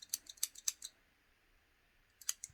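Small scissors snip and click several times in a quick cluster, then a pause before two more crisp snips, close and quiet.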